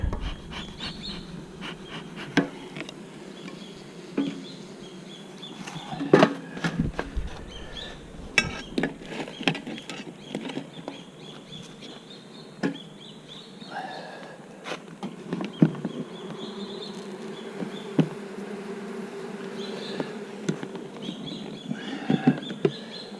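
Bees buzz inside an opened beehive, a nuc being checked after smoke is puffed under the lid, giving a steady low hum with scattered louder passes and clicks of handling throughout.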